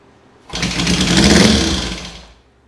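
A 1967 Honda CL77 motorcycle engine, being revived after sitting as swap meet junk, catches briefly on a shot of fuel and runs in a loud burst of just over a second before dying away.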